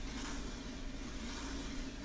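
A truck in the SnowRunner video game runs with a steady supercharger whine over a low, loping engine idle, faint and continuous for a couple of seconds with no talk.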